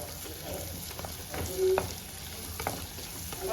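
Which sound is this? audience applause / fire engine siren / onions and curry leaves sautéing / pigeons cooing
onions and curry leaves sautéing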